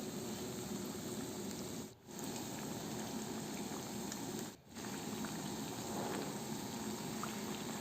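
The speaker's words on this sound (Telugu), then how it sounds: "ఇది మీడియం ఫ్లేమ్లోనే ఫ్రై చేసుకోవాలి" Urad dal sweets fry in hot oil on a medium flame, a steady dense sizzle and bubbling hiss that runs throughout, dipping briefly twice.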